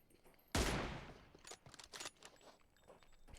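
In a competitive shooter video game tournament, one sharp gunshot cracks out loudly and decays, followed by a quieter scatter of shorter shots and footstep-like clicks.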